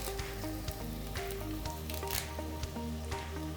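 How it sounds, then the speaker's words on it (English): Fresh curry leaves hit hot coconut oil in a pan for a baby clam dry roast, giving a steady close sizzle with crackling pops throughout. "into our pan, we're going to add fresh curry leaves"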